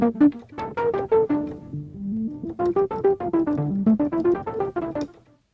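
A Korg DW8000 synthesizer plays alone, a melodic line of sustained, pitched notes gliding in a steady phrase, close and fairly loud, with a brief pause midway before the phrase resumes and then fades out.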